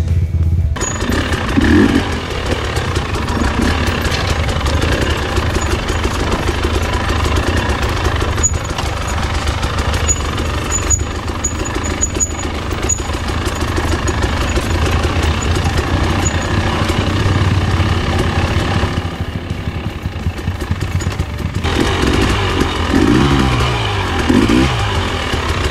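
A motorcycle engine revs hard and steadily while riding a rough trail, loud and close throughout, with a continuous roar and slight shifts in pitch.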